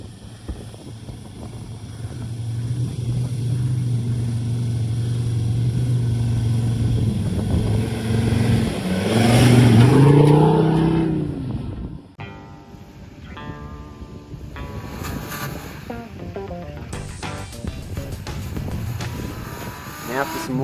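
A tracked Ranger side-by-side engine revs hard, droning steadily and then surging higher before cutting off. Rougher, choppier engine noise follows, close and loud.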